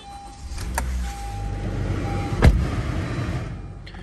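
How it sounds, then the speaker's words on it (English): A key-started 2019 Honda Civic LX turns over and fires up, with a brief whirring crank and a sharp catch near the middle settling into a steady, close idle hum inside the cabin. "The key in, start it up."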